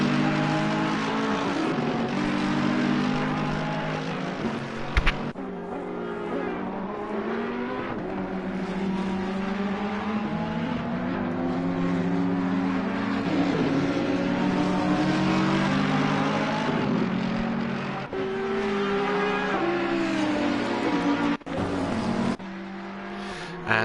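Race cars, including a Porsche and an Audi, brake and chase through corners at the Zolder circuit. Engines rise and fall in pitch over a dense, continuous distant roar, with occasional sharper bursts and no distinct voices.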